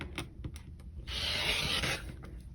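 A piece of wood is trimmed by hand, giving light scraping and tapping at first, then a steady, close rasping rub lasting about a second before it eases off.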